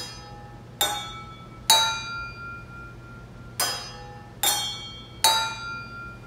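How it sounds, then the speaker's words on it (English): Drinking glasses holding different amounts of water are struck one at a time as musical percussion, giving five clear ringing pings at low, medium and high pitches, each fading with a short sustain, under a steady faint hum. "And that's your musical glass percussion experiment."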